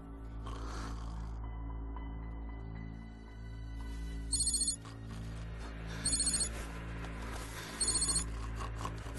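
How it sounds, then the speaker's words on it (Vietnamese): A telephone bell rings in three short trilling bursts about two seconds apart over a low steady hum, fairly faint and with no talking. "Phùng Tổng, có điện thoại."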